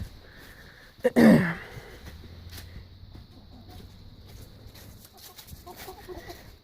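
A chicken gives a short burst of loud clucking up close, then quieter outdoor ambience with faint bird sounds.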